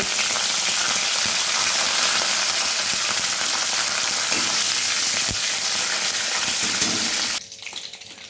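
Whole garam masala and curry leaves dropped into hot oil, giving a loud, dense, continuous sizzle like heavy rain close by, which dies down sharply near the end with a few faint knocks.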